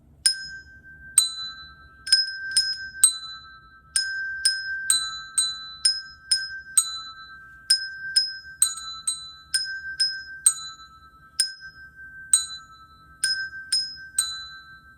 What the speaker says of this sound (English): But if I was to play this with handbells, it would sound like this.